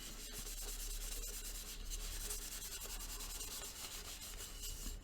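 Steady, continuous sanding on a small pear-wood vase, cutting back coats of chestnut lacquer; an even abrasive rubbing with no pauses and no talk.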